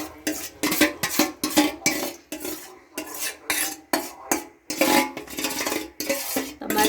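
A spoon steadily stirs about 300 grams of yogurt in a pan for dahi tikhari with the heat turned off, scraping and clinking in a regular rhythm of close strokes, each followed by a short pause, with no talking.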